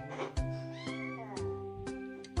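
A cat meows in the Toca Life video game, several bright, drawn-out mews in quick succession, close and clear with no talking over them.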